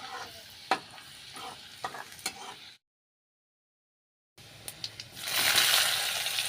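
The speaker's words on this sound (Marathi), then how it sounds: "लसूण भाजल्यानंतर कांदा टाका" Onion dropped into a pan of roasted garlic fries with a loud, steady sizzle. Soft stirring scrapes come first, then a gap of silence, then a strong close hiss that swells near the end.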